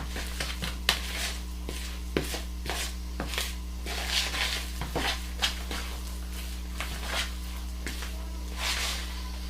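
Cinnamon swirl quick bread batter being mixed in a bowl, with soft irregular scraping and stirring strokes, a few sharper knocks of the utensil against the bowl, over a constant low hum.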